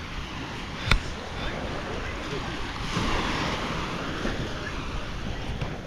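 Calm sea waves wash along a seaside shore in a soft, continuous surf hiss with gentle swells and a light wind rumble, plus one brief thump near the start.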